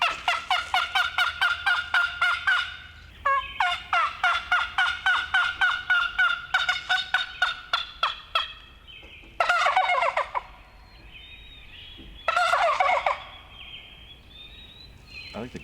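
Turkey gobbles imitated on a tube call during spring turkey scouting in Connecticut, rapid rattling gobble bursts repeated in loud, close series, with a few short pauses and scattered yelp-like notes.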